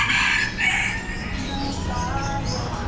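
A rooster crows clearly at a market in Thailand, a drawn-out cock-a-doodle-doo that sits close and loud over background murmur and faint clucking.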